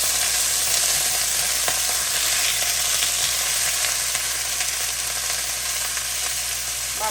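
Asparagus and broccolini sautéing in olive oil in a pan, a loud, continuous close sizzle with faint tossing and stirring scrapes throughout.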